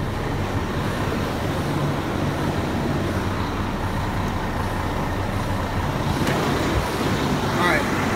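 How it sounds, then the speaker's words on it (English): Heavy diesel truck engine idling steadily after start-up, a continuous low rumble with broadband road-like noise throughout and a brief hiss near the end. "start the truck."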